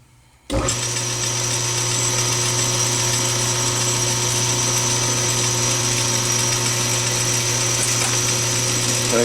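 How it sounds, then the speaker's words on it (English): A machine, likely a lathe, starts up and runs steadily and loudly while a bevel is cut on a small part to start a 5/16-24 thread, with a constant whirring hum and no talking. "Let's take and put a little bit of a bevel on it to"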